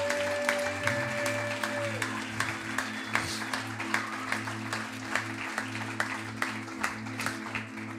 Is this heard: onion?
no